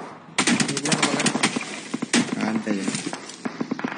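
Rapid bursts of automatic gunfire in a shooter video game, close and loud, with repeated rattling volleys and short pauses between them, while a voice talks under the shooting.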